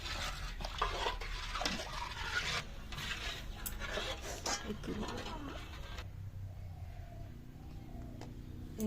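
A utensil scrapes and stirs through a pan as honey and ghee are mixed into food, a series of faint rubbing and scraping strokes that stop partway, leaving quiet kitchen background.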